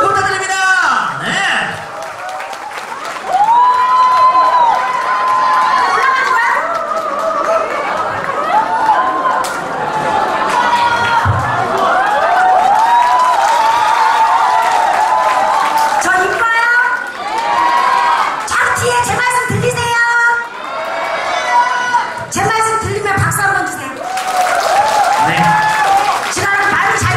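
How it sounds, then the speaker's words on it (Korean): Crowd at a year-end talent show clapping and cheering, a sustained loud wash of applause with shouts and children's voices, while an announcer's amplified voice speaks over it in stretches. "박수 부탁드립니다."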